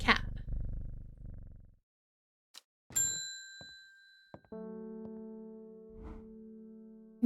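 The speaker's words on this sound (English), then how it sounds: "Pet that cat." Cat purring when petted in the video game Strange Horticulture, a low steady rumble lasting several seconds, joined by chime-like tones, with a brief mewing sound.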